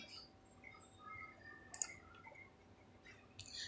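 Computer mouse clicks while working in an Excel spreadsheet, a few quick sharp clicks in small bursts over faint room hiss, close and quiet with no talk.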